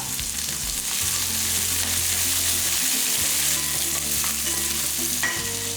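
Curry leaves and small shallots fry in oil for a dry fish curry, kuzhambu style, a constant bright sizzle with stirring scrapes and a low hum underneath, close and steady throughout.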